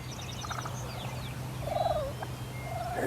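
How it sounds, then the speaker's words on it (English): A wild tom turkey gobbles in spring woods in Ontario, with a few rattling gobbles at moderate distance, one louder burst near the middle, over a low background hum. "That big boy's gobbling."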